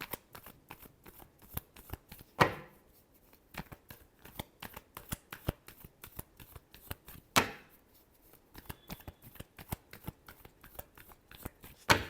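Tarot cards are shuffled by hand in a quick rhythmic series of soft riffling flicks, close and fairly quiet, with two louder bridging riffles standing out.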